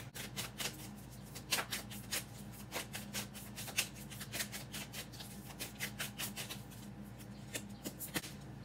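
Oracle cards being shuffled by hand, a quiet series of soft papery riffles and slaps in an irregular rhythm, close but faint, with no speech.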